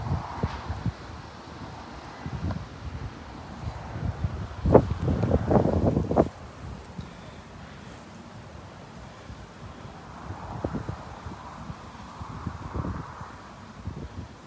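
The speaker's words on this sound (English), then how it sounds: "High winds." Severe supercell thunderstorm winds gusting around an apartment rooftop in Kingsport, Tennessee, roaring and buffeting the microphone, building to a strong rushing gust in the middle and easing into steadier blowing with smaller surges later.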